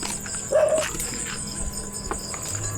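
A dog gives a single short, distant bark in a flood-hit village, set against a steady hum of insects and outdoor night noise, with no one talking.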